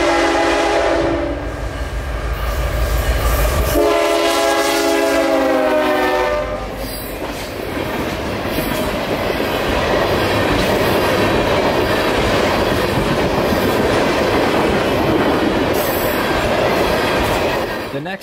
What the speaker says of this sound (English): This train ain't slowing down.